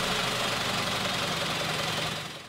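A Hyundai HB20S with a 1.0 turbo three-cylinder engine running, giving a steady, close, dense rumble with a slight vibrating texture that fades a little at the end.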